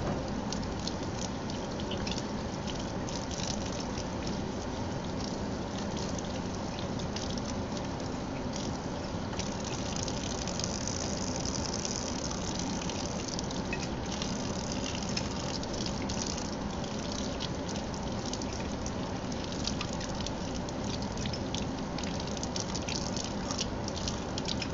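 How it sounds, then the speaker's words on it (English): Steel samples that have just been quenched are rinsed under running water, giving a steady, loud gush and splash that holds through the whole stretch with no talking. "So I'll go ahead and wash these off real quick"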